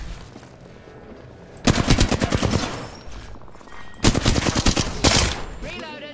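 Two loud bursts of rapid automatic gunfire in the video game Apex Legends, a long rattling volley followed after a gap by a second shorter burst, over low game ambience.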